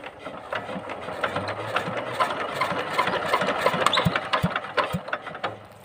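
An engine struggling to keep running gives an uneven, sputtering idle with irregular knocks and surges, close by and moderately loud, with no one speaking.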